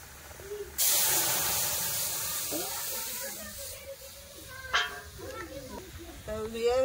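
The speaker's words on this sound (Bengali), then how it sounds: "পেঁয়াজ সব ভাজা হয়েছে, এবার দিয়ে দিচ্ছি ডাল" Lentils (dal) tipped into fried onions in a hot pan set off a sudden loud sizzle that hisses on steadily and slowly fades, with a voice talking over it.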